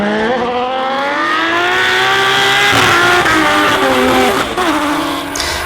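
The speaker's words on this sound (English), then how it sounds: "The rapid performance Nissan S13 coming through with a fantastic chase run" A Nissan S13 drift car roars loudly and close through a drift chase run, engine revving high with sustained tire squeal, no voices over it.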